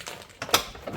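A second plastic clip on a repaired Mercedes body panel pops into its mount, a single crisp close snap among faint handling rustles.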